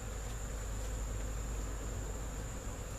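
Honey bees buzz in a steady, dense hum around an open hive in fall, a continuous close drone with no voices.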